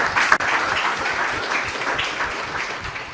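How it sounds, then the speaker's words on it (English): An audience at a Guyanese youth program event applauds the female participants, steady broadband clapping from many hands that holds evenly for a few seconds. "I want to give yourself a round of applause"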